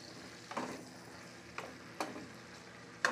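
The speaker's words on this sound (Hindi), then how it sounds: "ये जब तक गोल्डन ब्राउन नहीं होते तब तक हमें इसे फ्राई करते रहना है" Paneer cubes fry in a pan over medium flame until golden brown, giving off a faint, steady sizzle with a few sharp spatula clicks spaced through it.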